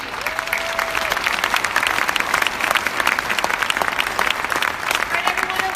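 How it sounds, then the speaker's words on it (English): A crowd claps steadily and enthusiastically for several seconds, a full audience applause with a few brief tones underneath. "a big round of applause for Nicole, Andrew, Marty, Chris, and especially"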